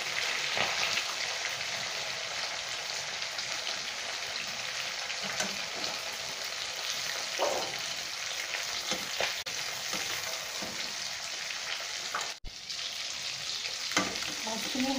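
Fish pieces frying steadily in hot oil in a pan for Assamese fish curry with khutura greens: a dense, continuous close sizzle with crackles and occasional stirring scrapes, no voices.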